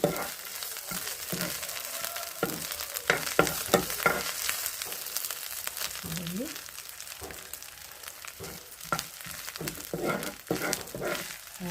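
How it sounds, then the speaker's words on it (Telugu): Ridge gourd peel frying with a ground powder of sesame, coriander seeds and curry leaves, giving a soft, steady sizzle with intermittent stirring clatters and a voice talking at times. "ఫ్రై చేసుకున్నాం."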